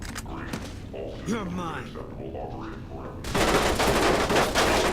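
Enemy gunfire in Fallout: New Vegas erupts partway through, a dense burst of rapid shots that follows quieter game sounds and carries on loudly to the end.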